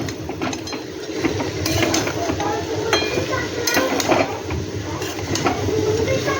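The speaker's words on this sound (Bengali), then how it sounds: "এবার আমি কচুটা দেখি, অনেকটা কমে গেছে। নেড়ে ছেড়ে দেবো।" Taro cooked with shrimp gets stirred in a pan, a spatula scraping and clacking against the metal in irregular bursts over a low sizzling bed, close and fairly loud.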